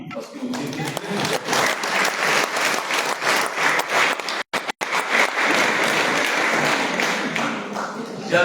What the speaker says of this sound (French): je demande à tous les participants de vous auto-applaudir